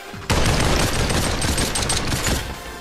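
Gunfire in a VR video game: a sharp onset into rapid, sustained automatic fire, loud and near, rattling for about two and a half seconds before tapering slightly.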